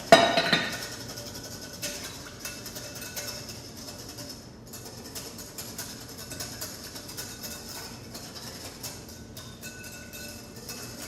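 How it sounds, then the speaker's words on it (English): A whisk clinks and rattles against a bowl while ingredients are beaten together, with a loud opening strike followed by steady, fairly quiet metallic scraping and ticking throughout. "So whisk it up real well, get those ingredients all combined"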